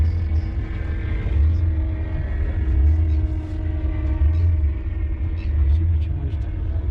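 A big-block Ford delivery van cruising around town at a classic and muscle car show gives off a deep, steady engine rumble that swells and eases in slow pulses, close and loud, with faint voices at the edges.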